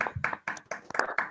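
Scattered hand claps from a few people on a live stream, thanking a guest, come in several uneven bursts with no steady roar of a crowd.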